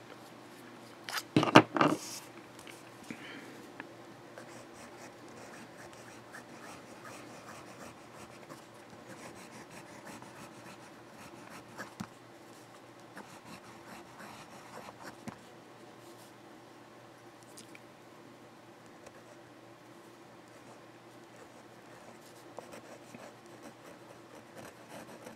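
A Noodler's fountain pen nib scratching across Franklin Christoph paper, a sharp burst of quick strokes near the start followed by a long stretch of soft, steady close-up scratching and rubbing with scattered faint ticks.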